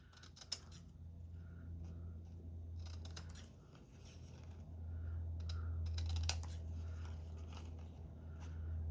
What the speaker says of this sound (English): Now I'm going to go ahead and trim these down.